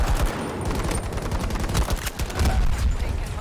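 Rapid bursts of automatic gunfire and overlapping shots in a Battlefield 2042 match, loud and dense with sharp repeated cracks over a continuous battle din.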